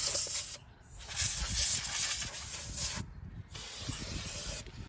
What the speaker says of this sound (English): so I just spray them with some brake cleaner